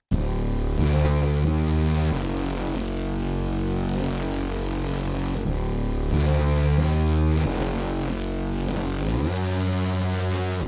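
Beat run through parallel compression on a Fairchild tube-style compressor with about 3 dB or more of gain reduction, giving dense, thick sustained chords and heavy low end that hold loud and steady throughout, without any voices.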